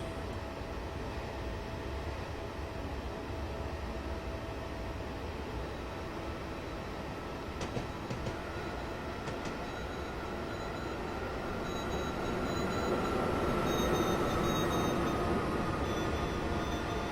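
A BR101 electric locomotive running in Train Simulator 2015, a faint, steady rumble with hiss and rail noise that swells slightly toward the end, with no voices.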